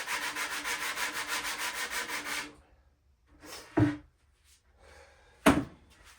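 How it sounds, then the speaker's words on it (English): Rhythmic back-and-forth rasping of a sanding block on wood for a few seconds, then quiet with two short knocks. "Take that little sanding block."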